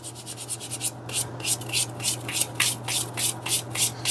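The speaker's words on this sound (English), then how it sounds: "And I'll lightly sand that again." Leather edges being sanded with 400 grit sandpaper, a rapid run of short rasping strokes at close range with a steady rhythm and no voices.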